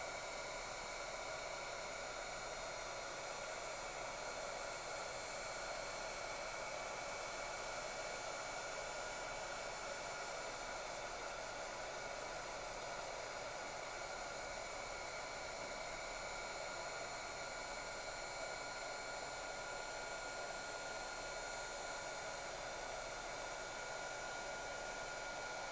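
A hot air heating tool blows steadily onto a craft mat, giving a continuous, even broadband whoosh that holds without pause for the whole stretch, close and moderately loud, with no talking.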